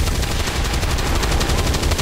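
Rapid automatic gunfire in XCOM 2, a loud, continuous string of closely spaced shots rattling steadily for a couple of seconds with no voices.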